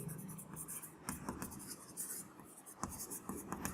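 Chalk or a marker writes on a board during a science lesson, giving a run of short scratchy strokes in irregular bursts, fairly close and moderately loud.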